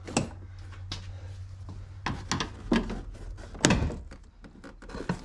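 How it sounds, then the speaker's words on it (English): Plastic clips of a 2003-2014 Volvo XC90 rear door panel being pried loose, a series of sharp, close pops and thunks spaced irregularly over a low steady hum. "fit it in between the door panel and the door, and pry out"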